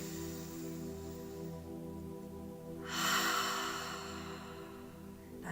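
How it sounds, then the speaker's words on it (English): A single deep breath taken during a guided meditation, a loud airy inhale rising sharply midway and fading out, set against a steady low musical drone. "Take a nice deep breath"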